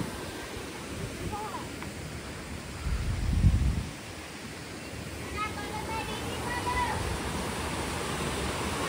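Rainwater from recent heavy rains streams down at the foot of the Tirupati steps as a steady, fairly quiet rushing wash, with a short louder swell partway through.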